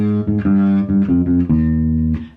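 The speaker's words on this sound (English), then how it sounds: "it starts off with 4 notes which are descending major scale" Four descending plucked bass guitar notes step down the major scale from root to 7th, 6th and 5th, played close and clear with ringing sustain, heard alone.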